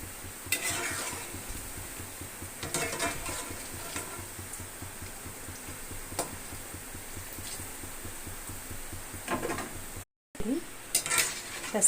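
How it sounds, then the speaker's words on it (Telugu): Moong dal fritters (pesara punugulu) fry in a pan, with a soft steady sizzle. Metal utensils stir and clink against the pan in irregular bursts close by. "2 వైపులా వేయించుకుందాం."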